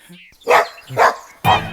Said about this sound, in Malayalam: മതിലിനപ്പുറത്ത് പട്ടി